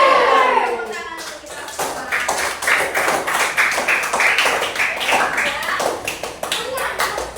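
Elementary classroom clapping together during a history lesson, a brief teacher's voice at the start, then a steady, rhythmic patter of many small hands close by, with a few voices mixed in.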